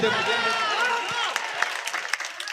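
A burst of applause and crowd noise at an Urdu poetry gathering in Mubarakpur, Azamgarh, thinning into scattered claps, with voices mixed in.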